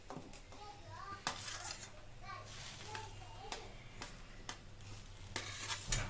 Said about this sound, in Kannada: ಈರುಳ್ಳಿ ಮತ್ತು ಕರಿಬೇವು ಹಾಕ್ಕೊಂಡಿದ್ದಾರೆ ಫ್ರೈ ಮಾಡೋಕ್ಕೆ.